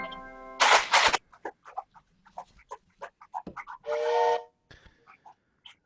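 A steam train whistle blows as the train arrives at a station: two loud, sustained blasts, one near the start and another a few seconds later, with voices and softer sounds between them.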